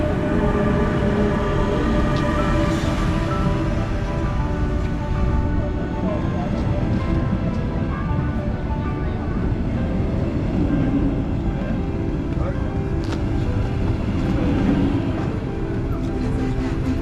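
A train runs on a rail trip from Frankfurt to Hamburg, with a steady, dense rumble and rolling rattle throughout, heard from on board and close.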